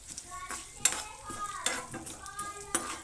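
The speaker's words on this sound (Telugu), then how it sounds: "ఇవి దోరగా ఫ్రై చేసుకోవాలి" Urad dal, coriander, cumin and fenugreek seeds frying in a pan, a faint, soft sizzle with intermittent stirring scrapes and light metallic clinks.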